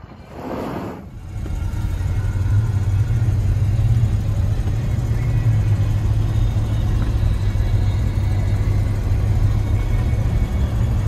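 A 1978 Ford F150 Ranger Lariat truck starts with a brief burst, then its engine settles into a loud, steady low rumble while driving, a continuous droning hum with no talking over it.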